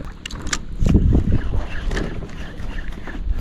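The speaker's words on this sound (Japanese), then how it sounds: "風が全然止まないよね。" Constant sea wind buffets the microphone aboard a small fishing boat off western Izu, blustery rumbling gusts swelling and fading over faint water sounds and slight clatter.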